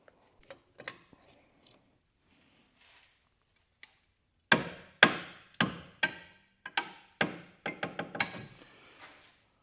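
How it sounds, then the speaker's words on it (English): A brake caliper on a Ford car is pried back to push its piston in. A few faint scattered clicks lead into a run of sharp, close metallic knocks and creaks. "we're going to try and pry the caliper back this way, which is in turn going to push the piston in that way"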